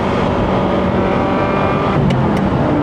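A Ferrari 348 Spider's engine roars steadily under hard acceleration on an open national road, loud and close, with a couple of brief sharp clicks near the end.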